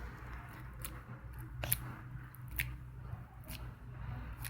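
Homemade slime squished and pressed on a tabletop for a click test, giving a run of soft wet clicks and squelches close up over a steady low background hum, with no talking.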